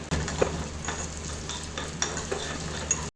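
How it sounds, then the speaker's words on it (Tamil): Finely chopped coconut pieces frying in ghee in a pan for Kerala banana payasam, a steady close sizzle with occasional stirring scrapes, ending abruptly. "இதை இதில் போட்டு வறுத்து எடுத்துக்கலாம்."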